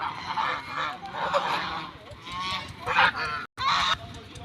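Several ducks honk and quack in bursts, close by and overlapping, with a brief gap near the end before the calls resume.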